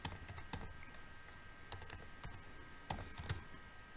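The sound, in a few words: typing on a computer keyboard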